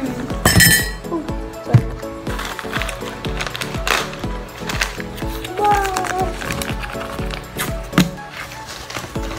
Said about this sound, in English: I just finished mixing the Swiss Miss